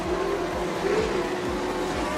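Speedway race cars roaring at Maryborough Speedway during a night race meeting, with one car hitting the wall; a dense, continuous engine drone with rising and falling pitch sweeps as cars pass nearby.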